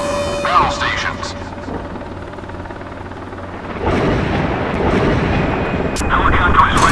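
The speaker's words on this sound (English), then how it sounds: "Helicopter is ready for recon." Helicopter in the Modern Warships naval combat game, a steady broadband rotor and engine roar that swells louder partway through, mixed with game interface tones and effects.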